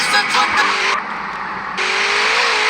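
Car in GTA San Andreas pulling away, its engine revving and surging in a steady loud whine with brief pitch shifts, heard alone without talk.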